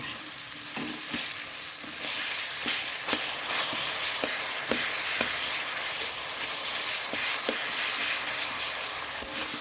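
Potatoes and pointed gourd fry in a pan with onion, green chilli, salt, turmeric, cumin and chilli powder, giving a steady close sizzle broken by sharp clicks and scrapes from stirring throughout.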